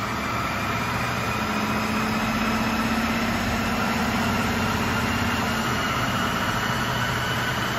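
A 2022 Ford F-150 with a stock exhaust and drag pack runs on a dyno, its engine a loud, steady, unbroken roar with a low hum underneath.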